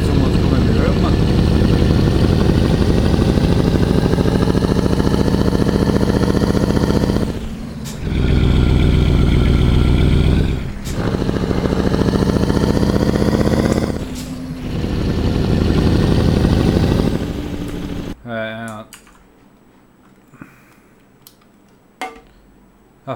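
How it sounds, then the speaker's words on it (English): Loud open-pipe Mercedes truck engine in Euro Truck Simulator 2, a heavy, throbbing roar that swells and drops through several gear shifts before cutting away to quieter, scattered sounds at the end. "I forgot the open pipe Mercedes is loud as anything, man."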